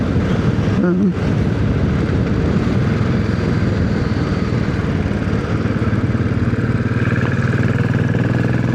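A Royal Enfield Classic 500 motorcycle being ridden on the road, its engine a steady, loud, continuous drone mixed with wind rush for the whole stretch, with no clear break in the sound.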